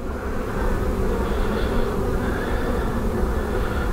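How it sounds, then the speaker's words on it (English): Honey bees buzzing steadily during a brood chamber hive inspection, a dense, continuous, close-up droning hum with no voices over it. "There's a bee with pollen on his leg right there."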